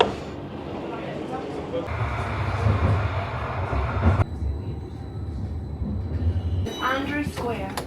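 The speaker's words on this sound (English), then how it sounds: "Here's the tram." A tram rumbles into St Andrew Square, Edinburgh, with a low, steady rail drone, a bell-like tone and brakes squealing near the end, while people talk nearby.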